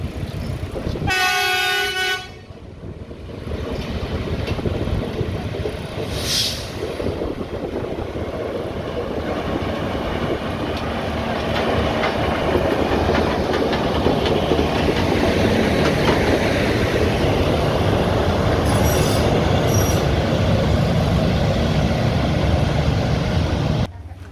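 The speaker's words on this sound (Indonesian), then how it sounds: "maka SSP ini terpaksa harus berjalan keluar dengan posisi masinis mundur" An SSP transformer railcar shunts out of a workshop, its driver running in reverse, with a loud, continuous rumble and a clatter of wheels nearby, plus short horn blasts near the start and again later.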